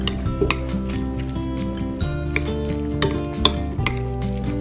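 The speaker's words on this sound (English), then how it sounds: "you're just gonna mix all of this up really well. Just make sure that you get that cream cheese mixed in there" Buffalo chicken dip with cream cheese is stirred steadily in a dish, with soft scraping and occasional utensil clinks over a constant low hum.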